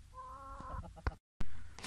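An Aseel chicken of the Mianwali breed clucks close by in a few short, throaty calls with small knocks and rustles between them. A brief gap of silence interrupts the sounds.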